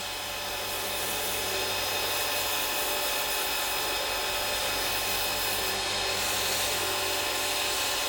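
A steady, continuous whirring hum of a spinning lathe with a soft abrasive rubbing of 320 grit sandpaper on the turned wood layered over it, constant and close, with no talking.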